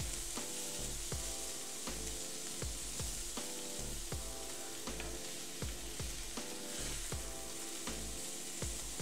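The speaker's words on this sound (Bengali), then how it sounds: "দেখেন আমি কীভাবে নাড়তেছি" Radish greens fry in a pan with a steady broadband sizzle while a utensil stirs them, giving repeated regular scraping strokes close by; no one speaks.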